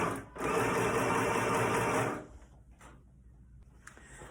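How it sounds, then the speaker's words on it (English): An electric sewing machine runs in one loud steady burst of about two seconds, stitching a sleeve cap into a party dress, then stops, leaving a quieter handling noise. "we're going to do a permanent stitch to hold the sleeve cap in"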